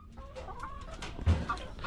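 Chickens cluck softly nearby in a short burst of low, throaty calls, with a little scuffling around them.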